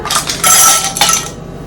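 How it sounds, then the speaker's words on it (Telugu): Ice cubes drop into a glass in a few quick, bright clinks, loud and close, for a little over a second. "ఇప్పుడు నేను ఇందులో ఐస్ క్యూబ్స్ యాడ్ చేసుకుంటున్నాను"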